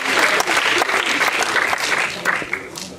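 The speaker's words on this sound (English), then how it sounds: "Please applause for her" Audience applause at an international youth work conference in Latvia, a dense, steady burst of many hands clapping for a speaker being welcomed to the stage, loud and close, easing off slightly toward the end.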